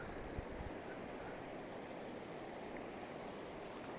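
A stream rushes along in a village in Afghanistan during mulberry season, a steady broadband roar of flowing water heard close and constant, with no voices.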